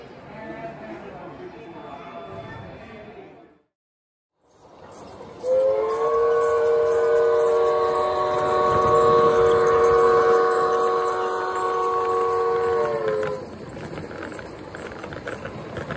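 Model trains rumble and clatter along the track in Yuba City, with a sustained whistle sounding for several seconds amid background chatter.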